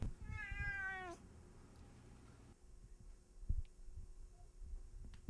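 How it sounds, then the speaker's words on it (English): A cat gives a single clear, close meow near the start, followed by quiet room tone with a few faint bumps. "my personal friend and family member, Pledges the Cat."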